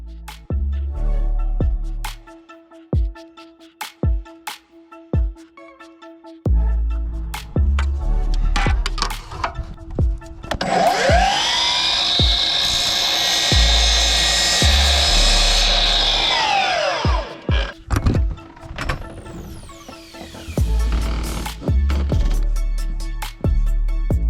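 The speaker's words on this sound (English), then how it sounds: "take my router and round all three of these outer corners here" A router rounds the corners of 2x4 wood trim, a high whining spin-up and a loud sustained cutting roar mid-clip, with clunks and handling knocks before and after.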